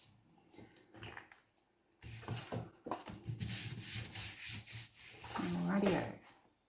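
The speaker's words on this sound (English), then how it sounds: "Give everything a good burnish." Paper layout pieces being burnished by hand, a dry rubbing and scraping against paper with short strokes at first, then steadier, louder back-and-forth rubbing, close and with no talking.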